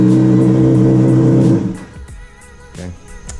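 A Honda CBR 600RR with a no-start problem: a loud, steady mechanical whir sounds for about a second and a half, then cuts out, leaving quiet clicks and faint rustling close by.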